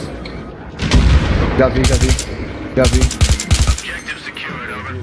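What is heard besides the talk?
gunfire in Battlefield 3 video game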